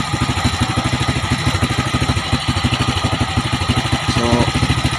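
A motorcycle engine idles during carburetor tuning, a steady close putter with even, rapid firing pulses holding throughout, alone with no talk.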